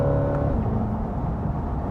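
A 2022 Chevrolet Corvette C8 accelerating hard with quick gear shifts, the engine note climbing and then abruptly stepping down at a shift, heard loud from inside the car without talk.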